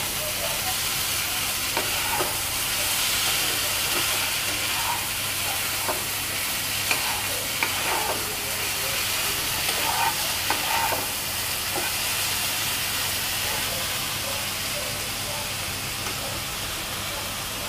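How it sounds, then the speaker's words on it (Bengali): Fried bombil fish with onion being stirred in a pan, under a steady loud sizzle and hiss with faint, scattered scrapes of the spatula, close and continuous, with no talking. "একটু নেড়ে নিতে হবে।"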